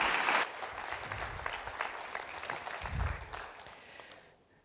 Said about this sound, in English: I think a round of applause, Mr. Güç.